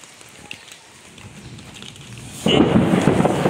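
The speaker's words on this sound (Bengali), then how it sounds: "বৃষ্টি হইতেছে" Steady rain hisses under an umbrella, then suddenly swells into a much louder, dense downpour roar partway through, with a low rumble beneath.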